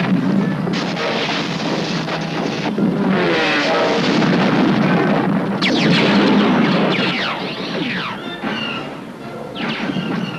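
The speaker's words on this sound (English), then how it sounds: "Explosions were also enhanced by animation and sound effects." Explosion effects from The Empire Strikes Back (1980), heavy roaring blasts and crashing rumbles layered with whooshing, sweeping tones, loud and continuous for the whole stretch with no talk.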